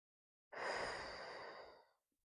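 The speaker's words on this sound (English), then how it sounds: "Breathe in, blow out." A single long breath is blown out during a gentle exercise routine, a close, soft, airy exhale lasting about a second and a half in an otherwise silent room.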